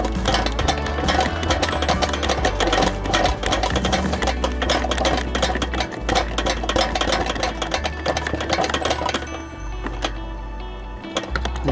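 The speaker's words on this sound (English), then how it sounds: "we are installing the ground bolt in here" A power tool runs steadily and loud while driving a ground bolt into a Sanitaire commercial-grade vacuum cleaner motor, with a busy rattling whir that keeps going for most of the stretch before thinning out near the end.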